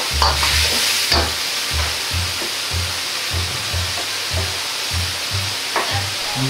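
Pork and bean sprouts with plenty of ginger stir-frying in a hot pan, a steady loud sizzle broken by regular rhythmic tosses and scrapes about every half second.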